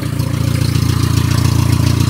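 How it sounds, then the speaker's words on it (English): A 1996 Geo Tracker sits idling with a muffler-delete exhaust, giving a loud, steady, close low rumble with an even pulsing throb throughout, with no voices over it. "I actually did a muffler delete on it. That's why it sounds better than factory."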